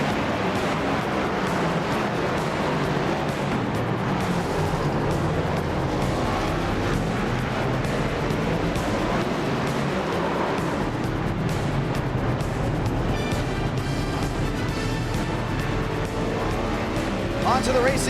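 Several NASCAR Cup Series cars in iRacing roll onto the Circuit of the Americas, engines roaring loud and dense in one continuous wash, with a voice talking over them.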